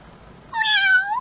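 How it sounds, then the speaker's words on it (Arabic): A cat gives one clear, close meow, rising then falling and lasting under a second, after a brief quiet lead-in. "cat. meow. cat."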